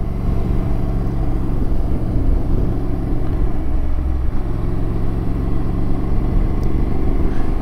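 Motorcycle riding on a road in Norway, a steady engine drone with rumbling low end and wind noise, continuous and close throughout.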